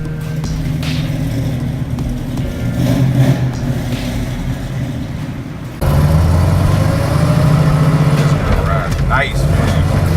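Inside a classic Chevelle SS 396 muscle car, the naturally aspirated engine rumbles loudly and chugs on a cold morning as it pulls away, with a clear jump in engine noise partway through and people talking over it.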